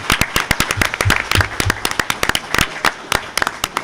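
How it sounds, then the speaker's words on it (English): A school board meeting audience applauds, a dense burst of sharp overlapping claps filling the room steadily from start to finish, loud and close with no talking over it. "How about one more round of applause for our service people?"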